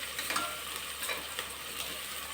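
Fennel, cumin and stone flower fry in oil for a biryani, making a soft, steady sizzle broken by light stirring scrapes, close and with no voices.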